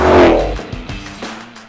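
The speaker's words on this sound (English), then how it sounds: "it sounds completely unhinged" A 2021 Ford Mustang Shelby GT500 with a 5.2-litre V8 topped by a Roots-type supercharger revs hard, a loud close roar that peaks early and then falls away in a few quick blips.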